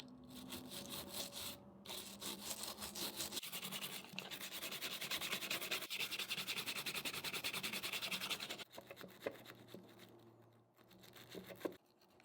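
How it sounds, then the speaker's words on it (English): Brisk scrubbing of a Nintendo DS Lite motherboard with isopropyl alcohol, close and steady: a dense rubbing, brushing texture that runs continuously for most of the stretch, then softens into a few lighter strokes and small knocks near the end. "Now it was time to clean up the motherboard with some isopropyl alcohol. Let's go ahead and give the whole thing a big scrub."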